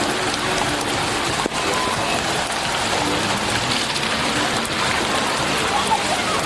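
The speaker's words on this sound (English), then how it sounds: "I don't care if it's raining. We're going to take it in the" Steady rain pours down outdoors, a dense, even hiss of drops on surfaces filling the whole stretch, with one brief bump partway through and no clear talk.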